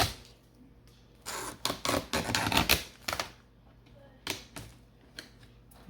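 Trimming a cured resin steering wheel car tray, with bursts of close, rapid scraping and rasping cuts in irregular clusters between short quiet pauses.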